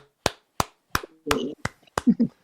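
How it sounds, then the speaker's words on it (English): Six sharp single hand claps sound close and dry at uneven intervals, with short bits of speech between them. "Give you a few claps here"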